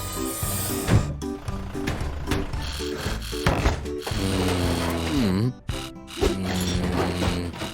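Welder at work in a kids' car repair game fixing a broken bulldozer, producing rapid mechanical buzzing and stuttering machine chatter, with cartoonish sliding tones and brief pauses.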